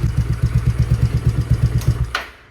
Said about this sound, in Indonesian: knalpot ini dengan suara seperti ini